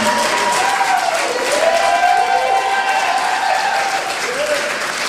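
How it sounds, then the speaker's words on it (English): A church concert crowd breaks into loud, sustained applause with some cheering for veterans, a dense wash of clapping close and continuous, with a voice briefly heard over it. "I want to have a huge round of applause for all of our veterans out there this evening."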